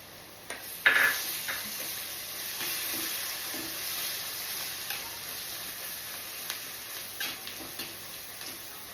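Green chillies and curry leaves fry in hot oil for an okra and egg pulusu, giving a soft, steady sizzle with a louder burst early on and scattered light clicks of stirring.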